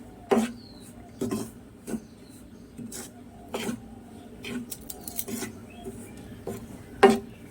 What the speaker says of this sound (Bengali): একটু ভেজে নিচ্ছি চালের গুঁড়োটা